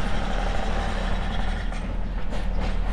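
Roadworks truck on a Magaluf street in Majorca: a loud, dense engine and machinery roar fills the whole stretch, with reversing beeps faintly mixed into the din.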